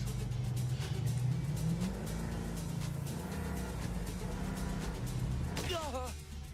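Car engine revving loudly in the Hotori Ascension 4 video game, a steady mid-low engine drone with music or game effects layered over it and a brief whooshing sweep near the end.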